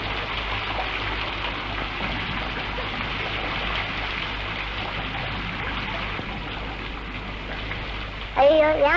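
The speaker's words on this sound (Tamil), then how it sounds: "ஐயோ, ஏன் இப்படி மழையில உட்காந்துருக்கீங்க?" Steady rain falls throughout, a continuous close hiss of drops on surfaces, with a brief voice near the end.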